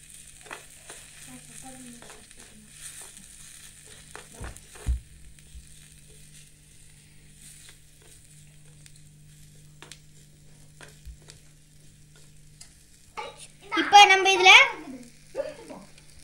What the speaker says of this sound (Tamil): இது எல்லாத்தையுமே நல்லா கலக்கி விட்டுக்கோங்க.